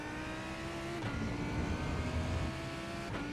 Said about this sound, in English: I'm back up to full gas and straight up to second gear.